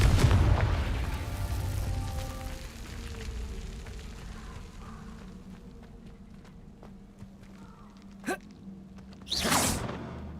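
A Confringo spell explosion in Hogwarts Legacy, a loud booming blast at the start that rumbles and fades, followed by quieter ambience and a few sharp bursts near the end.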